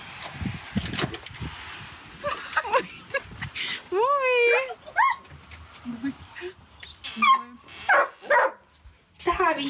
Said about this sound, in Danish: en sød lille hund.